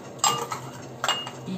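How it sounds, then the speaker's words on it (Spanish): Eggs drop one at a time into a bowl of cake batter, giving two short, close clinks against the bowl with a quiet pause between them. "Voy a poner los huevos de a uno, uno."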